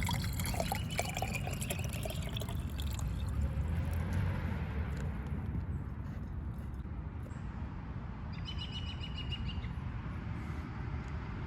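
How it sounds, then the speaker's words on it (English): A liquid crystal pigment mixture is poured into a container, making a continuous close trickling and splashing sound that lasts throughout, with faint chirps in the background. "I'm going to pour it in here now"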